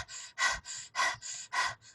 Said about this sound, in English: Like you're panting like a dog.